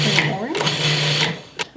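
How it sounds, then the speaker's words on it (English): A food processor pulses dry cheese cracker ingredients in short motor bursts, loud and close, with brief gaps between the pulses. "So now I'm just going to pulse those to combine all those dry ingredients."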